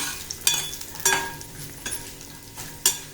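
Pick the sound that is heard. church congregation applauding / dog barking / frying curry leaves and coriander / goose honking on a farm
frying curry leaves and coriander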